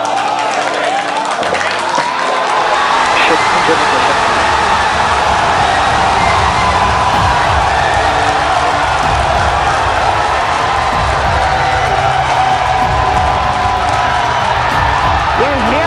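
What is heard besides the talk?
crowd cheering at SpaceX Starship stage separation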